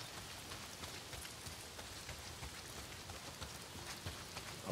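Heavy rain in Days Gone, a dense steady hiss of drops pattering on surfaces, unbroken and fairly quiet throughout.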